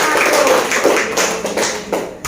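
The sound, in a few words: applause for the presenting group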